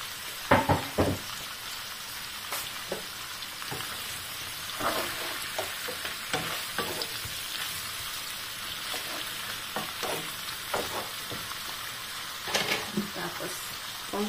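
Chopped tomato sizzles in a hot pan while cooking for a stingray and turmeric dish, a constant crackling fry broken by repeated clinks and scrapes of a utensil stirring.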